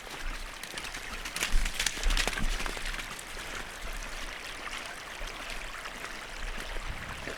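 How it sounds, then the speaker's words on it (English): Steady rushing and trickling of running water with occasional splashes, continuous and fairly close, with no voices. "We've got all this water washing down."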